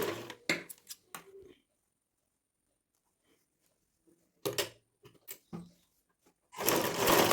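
A sewing machine stitching fabric makes a few short, loud bursts, then long quiet gaps, then a sustained close run of stitching at the end, with no talk.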